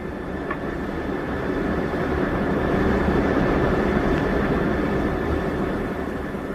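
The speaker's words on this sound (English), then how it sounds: "I can't sleep because of this buffeting." A jumbo jet in turbulence is rendered as a radio drama effect: a dense, steady cabin roar with low rumbling and buffeting that swells slightly midway, heard alone without voices.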